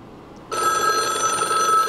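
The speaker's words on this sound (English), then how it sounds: "now all subsequent rings are going through" A telephone bell rings for an incoming call on a line, starting abruptly after a short hush and continuing as a steady, loud, close metallic trill.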